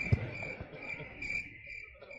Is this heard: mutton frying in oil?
no